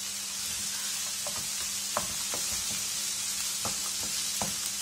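Capsicum sizzles and fries in a pan for egg manchurian, a steady hiss under irregular scraping clicks of a spatula stirring, with no talking.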